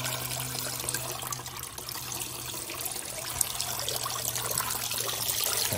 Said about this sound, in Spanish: Está botando todo el agua, pero bueno, no importa porque lo estamos recuperando aquí.